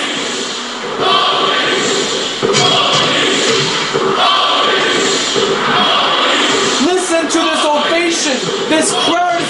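Wrestling crowd at a live pro wrestling event cheering and roaring continuously and loudly, with rising whoops and shouts near the end and an announcer's voice faintly mixed in.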